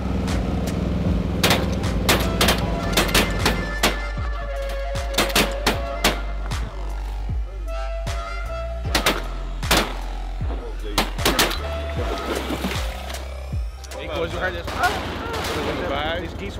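Sharp, loud shotgun blasts ring out again and again during a waterfowl hunt, irregular single and doubled shots spread across the stretch with voices talking between them.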